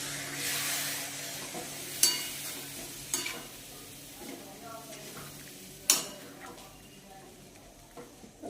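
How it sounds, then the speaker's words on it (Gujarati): Chickpea gravy stirred in a pan just after water is added, a steady scraping and sizzling simmer with a few sharper utensil knocks against the metal, close and moderately loud. "પાણી નાખીએ થોડું એટલે ફટાફટ હલાવે"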